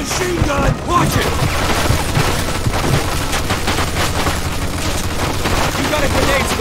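Sustained machine gun fire in the 1940s gangster game Mafia II rattles on continuously in a dense, loud barrage, with shouting voices mixed into the chaotic firefight.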